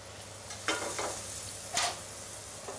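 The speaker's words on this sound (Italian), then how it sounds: "E lo facciamo rosolare da ambo le parti." Salami slices browning in a frying pan, a soft steady sizzle with a couple of brief louder bursts of stirring or turning, close and alone without talk.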